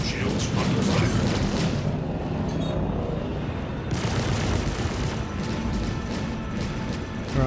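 Spaceship cannons firing in a Star Citizen PvP pirate fight, a dense rapid barrage of booming shots rolling on without pause, loud and continuous throughout.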